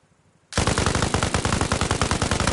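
Video game gunfire in Arma Reforger on a shooting range: after a short quiet lead-in, a loud, rapid automatic burst of machine-gun shots runs without pause to the end.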